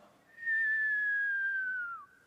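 A voice imitates a long falling whistle, one sustained tone that slowly drops in pitch over about two seconds, like a bomb descending, with no talking.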